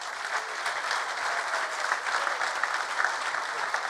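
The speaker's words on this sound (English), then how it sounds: "a round of applause for these guys" Steady applause from an audience at a Craft Brewers Conference 2017 talk, a dense even patter of clapping that continues throughout without pause.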